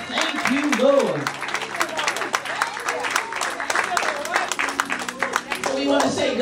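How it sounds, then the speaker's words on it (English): Church congregation claps hands in praise, a dense mix of clapping with voices shouting and talking over it, fairly loud and steady throughout. "Another hand clap for the Lord."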